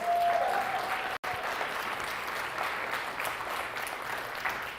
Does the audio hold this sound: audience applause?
yes